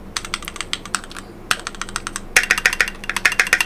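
Key clicks from a Keychron Q2 custom mechanical keyboard running QMK, close and crisp, in quick irregular bursts of typing that pause briefly, then resume louder and faster.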